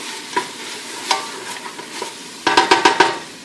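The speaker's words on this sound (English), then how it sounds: "Let's stir our spices up." Spices being stirred in a pot before mussels go in, a light sizzle with scattered spoon scrapes, then a quick burst of four or five louder rhythmic stirring strokes near the end; close and clear with no talking.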